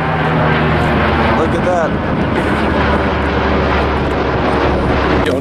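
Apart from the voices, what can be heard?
airplane flying low overhead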